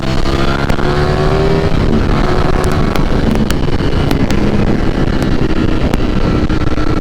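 A Ducati V4 Streetfighter motorcycle engine revving loud and close as the rider accelerates through the gears, a continuous roar mixed with heavy wind buffeting.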